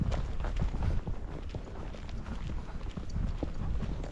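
Barefoot horse hooves walking on soft, very supple ground outdoors, a steady stream of muffled thuds with an even rhythm, close by, over a constant low rumble of wind-like background noise.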